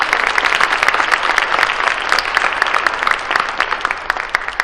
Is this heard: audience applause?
yes